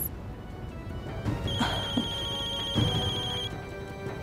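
A telephone rings with a sustained electronic ringtone, steady and fairly loud, accompanied by faint background thumps and no speech.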